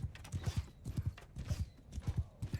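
Horse hooves clip-clopping in Mount and Blade II: Bannerlord, a steady rhythmic gallop of close, repeated low thuds lasting throughout with no talk.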